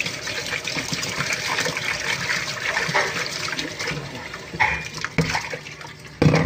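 A kitchen tap gushes steadily as duck meat is rinsed clean for soup. The moderate flow changes with splashing and a few sharper bumps toward the end, and no one speaks.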